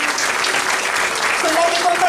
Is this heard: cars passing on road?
no